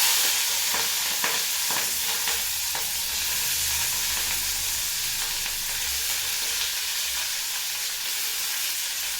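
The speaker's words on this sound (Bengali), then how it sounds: "পেঁয়াজ কুলি আলু ভাজবো আমি আমার জন্যে।" Onion and potato pieces frying in a pan give a constant loud hissing sizzle, with faint stirring clicks now and then, steady throughout.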